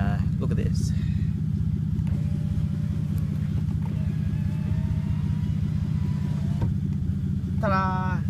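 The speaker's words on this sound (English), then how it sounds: "the engine's on at the moment because I left the car on" A stationary car's engine idles continuously with a steady low hum close by, while someone talks over it now and then.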